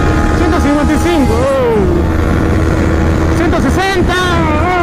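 A Yamaha MT03 motorcycle engine revs and climbs in pitch in repeated surges, loud and close, with voices talking over it.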